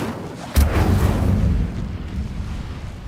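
In Hogwarts Legacy, an Incendio fire spell is cast with a sudden booming burst that trails into a rumbling, crackling roar for a couple of seconds.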